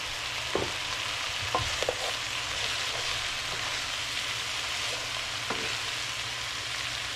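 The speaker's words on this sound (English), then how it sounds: "We're going to let that cook down and then we'll add some garlic to it." Chicken stir-frying in a pan with seasoned salt and soy sauce, a soft continuous sizzle broken by a few sharp clicks and scrapes of stirring, fairly quiet and without talk.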